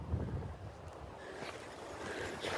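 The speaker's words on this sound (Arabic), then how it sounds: "ديما قوة الريح كاينة" Strong, gusty wind in the mountains near the Bou Taleb mines. A soft, broad rushing noise buffets the microphone, rising and falling faintly throughout with no one speaking.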